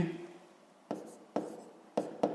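A pen writes on paper during a sixth-grade maths exercise, with four short, scratchy strokes at close range following a brief moment of quiet room tone.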